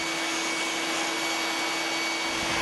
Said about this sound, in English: Set up your fence on the table saw and use a steady motion to guide the plywood through the blade.